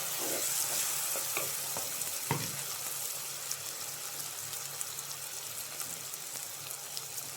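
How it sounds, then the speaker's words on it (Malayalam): Torn dried red chillies sizzle in hot oil for a beef liver roast, a steady close crackling hiss with a few sharper pops and stirring clicks, no voices. "ചൂടായി വരുമ്പോൾ അതിലേക്ക് 2 ഉണക്കമുളക് കീറിയിട്ട് ഇടാം"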